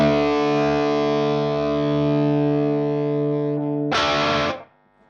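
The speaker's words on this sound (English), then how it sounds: "Listen to what happens when I put a Klon in." Electric guitar run through a compressor and a Klon overdrive pedal, a sustained driven chord ringing thick and harmonically rich, then a sharp strum before it cuts off.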